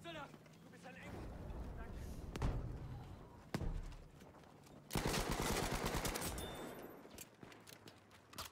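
Gunfire in a Battlefield 5 Conquest match: a single loud shot, then another, followed by a sustained rapid automatic burst. Voices talk in the background between the shots.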